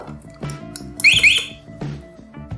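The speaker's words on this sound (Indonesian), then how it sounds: "maka buzzer akan hidup. Itu dia, buzzernya nyala" A motorcycle alarm buzzer on a bench demonstration, running on its backup battery, sounds a sharp warbling electronic tone for about half a second over a steady background hum.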